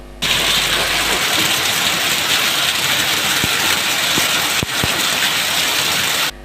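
Hail pelting down across the city of Rewa makes a dense, steady roar of hiss and clatter with scattered sharper hits, loud and continuous for several seconds.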